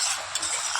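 Soybean chunks are stir-fried with spices in a pan, giving a short, close, steady sizzle with stirring and scraping and no voices.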